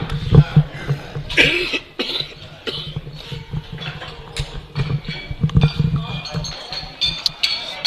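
A few sharp coughs ring out close by at a powerlifting competition, mixed with clinking and background chatter in a busy room.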